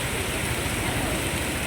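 Heavy rain pours in a constant, dense hiss, heard from a vehicle driving through flooded roads, steady and unbroken throughout.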